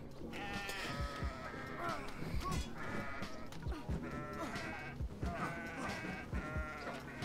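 Goats bleat repeatedly in the game Kenshi, overlapping wavering cries from several animals close by, layered over battle noise and background game sound without pause.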